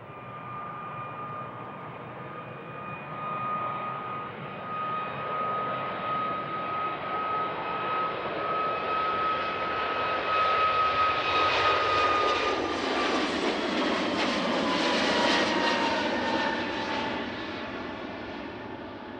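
A Norwegian Boeing 737 MAX jet departs runway 36L at Schiphol, its engines roaring loud and steady, with a whining tone that falls as the jet climbs and the broad rumble swells, then fades slightly near the end.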